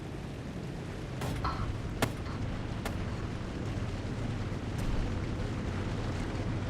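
Cannon fire and explosions in the War Tycoon video game during a naval raid, a dense continuous rumble with a few sharp, short blasts standing out, no talking heard.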